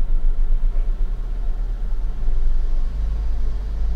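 A car restarting after a little gas and settling into a steady, close, rumbling low idle that holds throughout with no talk.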